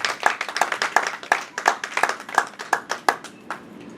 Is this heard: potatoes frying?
no